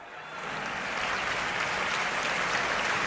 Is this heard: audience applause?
yes